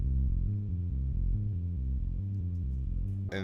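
Synth melody slowed with two halftime effects, heavy low-pitched notes stepping in a sluggish, dragging pattern, loud and alone, ending in a brief burst of noise.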